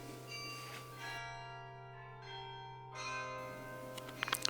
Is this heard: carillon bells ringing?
yes